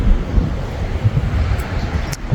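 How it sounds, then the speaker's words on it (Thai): Strong wind gusting from all sides outdoors near flowering plants, a steady broadband roar with low-end buffeting against the microphone, loud and continuous throughout with no voices. "ลมรอบด้านเลยค่ะวันนี้"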